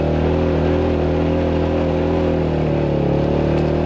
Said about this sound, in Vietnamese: Có thể cái tiếng xe máy nó hơi ồn một tí nên các bạn hết sức thông cảm nhé.